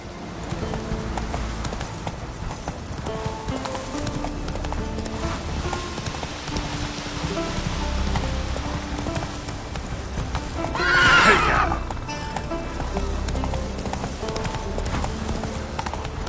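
Roach, the horse in The Witcher 3, gallops with steady rhythmic hoofbeats and lets out one loud neigh partway through, over a game soundscape.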